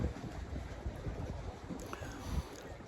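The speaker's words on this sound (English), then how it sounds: "There's a wind." Wind blows beside Lake Coeur d'Alene, buffeting the microphone with low gusty rumbles, moderately loud.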